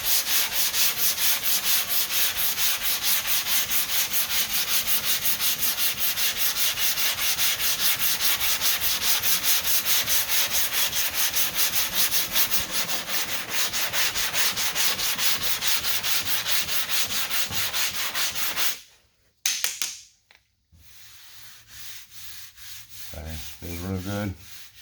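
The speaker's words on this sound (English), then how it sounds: "We'll keep sanding right here." Bondo body filler on a car body line is sanded by hand in quick, rhythmic back-and-forth rasping strokes, close and steady for about eighteen seconds, then a pause and a few softer scrapes.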